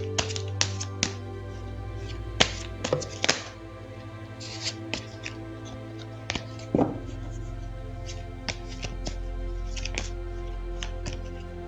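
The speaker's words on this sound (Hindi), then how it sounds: "तो चलिए पहले ज़रा कार्ड्स को शफल कर लेते हैं।" Tarot cards are shuffled with scattered light clicks, taps and riffles at an irregular pace, close up and fairly quiet over a low steady hum.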